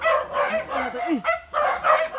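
Several dogs barking near a house, short sharp barks in bursts, some overlapping, with a rising whine or yelp partway through and a person talking over them.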